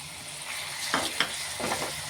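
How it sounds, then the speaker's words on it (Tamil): Tomato sautéing in a pan for mutton thakkadi, a steady low sizzle broken by two or three sharp stirring scrapes and clinks. "இதே நல்லா வதக்கிக்கலாம். தக்காளி தெரியாத அளவு வதங்கணும்."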